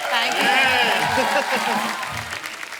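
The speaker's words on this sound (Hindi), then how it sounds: "जोरदार तालियां कृति के लिए।" Audience applause for actress Kriti Sanon on a comedy talk show stage, loud clapping mixed with cheering, with voices layered over the applause.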